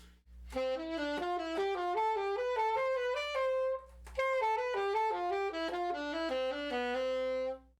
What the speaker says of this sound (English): we can also do things like playing the scale in thirds or fourths